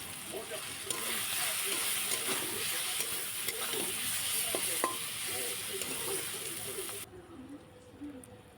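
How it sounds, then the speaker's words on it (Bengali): Salt and turmeric spices frying and being stirred in a pan for tadka dal: a steady close sizzle with scraping stir sounds, ending quieter after the heat seems to drop. "মশলাগুলো যখন ভাজা ভাজা হয়ে গেল"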